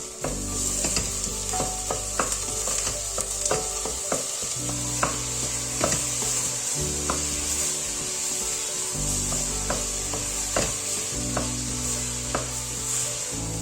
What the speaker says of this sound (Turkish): Evet, kuru fasulyemizi karıştırıyoruz.